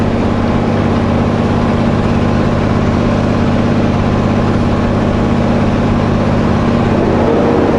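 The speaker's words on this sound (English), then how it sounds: "Sounds like this is my truck." A 2019 pickup truck engine idles steadily, giving off a loud, constant low rumble with an even hum that holds unchanged for several seconds, with no talking over it.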